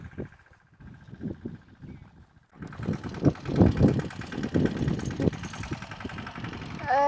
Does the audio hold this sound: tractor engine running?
yes